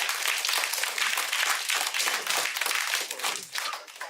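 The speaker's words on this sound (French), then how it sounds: "Rien n'est plus stimulant que les cris de la foule qui scande votre nom." A crowd roars and shouts continuously and loudly, with clapping mixed into a dense, steady wall of noise.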